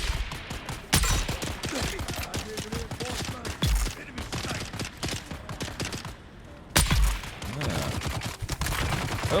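Heavy gunner firing in the desert shooter Dune: Awakening, a steady barrage of rapid shots running through the whole stretch with louder bursts, a dense continuous clatter.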